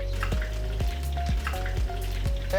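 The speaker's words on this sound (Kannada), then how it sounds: "ಎಣ್ಣೆ ಫ್ರೈಯಲ್ಲಿ ನೋಡಿ ಇದನ್ನು ಬೆಳ್ಳುಳ್ಳಿ ಸ್ವಲ್ಪ ಫ್ರೈ ಮಾಡ್ಕೋಬೇಕು" Garlic and chili sizzle in hot oil in a pan, a steady bright crackle with occasional louder pops and spatters, close and continuous without any voices.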